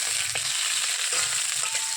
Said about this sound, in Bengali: শুকনো মাছটা এটা আমি ভেজে নেবো